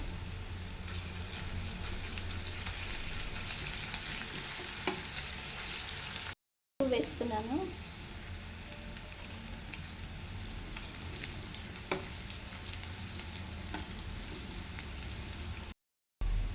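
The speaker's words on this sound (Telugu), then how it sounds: "ఫ్రెష్గా దంచి పెట్టేసుకున్న అల్లం వెల్లుల్లి పేస్ట్ కూడా వేసేసుకోవాలి" Ginger garlic paste frying with onions in a hot pan, a steady close sizzle with stirring scrapes throughout, a brief spoken word partway and two short dropouts in the sound.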